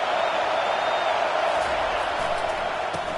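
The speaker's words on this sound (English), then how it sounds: "Decibels rising as the crowd gets behind this defense on third down" Football stadium crowd during a home game against Notre Dame, a dense, steady roar of many voices holding loud and constant as the defense lines up on third down, with faint whoops rising above the wash.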